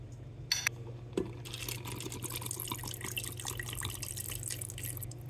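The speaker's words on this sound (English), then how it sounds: "gonna add water to cover those noodles up" Water runs from a tap into a pot of pantry noodles, with a few sharp knocks at the start and then a steady close splashing stream over a low hum.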